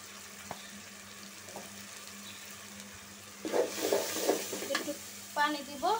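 Ground coriander and chili spices sautéed in a pan for a chicken curry, a faint low sizzle at first, then louder scraping stirs and clinks of a utensil near the end.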